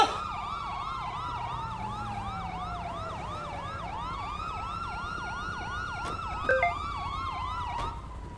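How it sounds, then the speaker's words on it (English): Police siren wailing in rapid, repeated up-and-down yelps, loud and steady throughout, with a couple of brief clanks near the end and no speech. "Can we get a siren check?"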